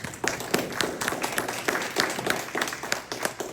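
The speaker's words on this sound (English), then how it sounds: "Give him a big round of applause" Sparse clapping from a small workshop audience at an event on navigating toxic polarization, uneven hand claps rising and falling steadily over a few seconds with no talk on top.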